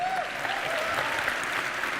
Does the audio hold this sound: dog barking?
no